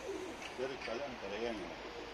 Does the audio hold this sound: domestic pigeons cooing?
yes